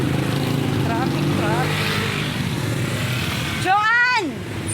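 Busy street traffic with cars and motorcycles passing on a walk to a vegetable stall, a steady engine rumble under continuous nearby chatter, with a loud horn-like blare near the end.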